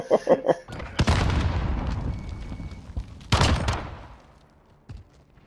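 Hip-fire gunshots in Call of Duty: Modern Warfare, a rapid burst of close automatic fire followed by heavy booming reports and a second loud volley, tails ringing out, ending with a single faint shot.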